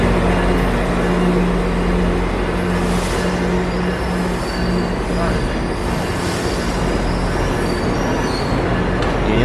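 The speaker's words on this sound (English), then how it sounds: "Looks like this one's gonna be our train." A GO Transit train pulling into Union Station in Toronto, loud rumbling wheels and squealing metal with a persistent low hum, heard up close on the platform with voices in the background.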